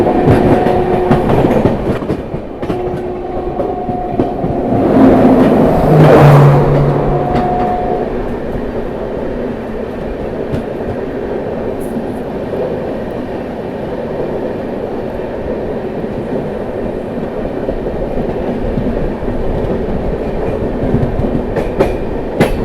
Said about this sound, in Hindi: ये गई दोस्तों प्रयाग एक्सप्रेस